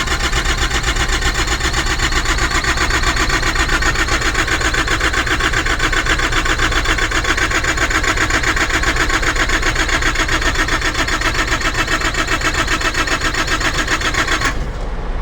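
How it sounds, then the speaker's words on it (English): The engine of a transport refrigeration unit cranks over and over without catching, a loud, steady, rapid rhythmic churning that runs for about fifteen seconds before cutting off abruptly. No one talks. "let's see what happens when she tries to crank up, tries to start"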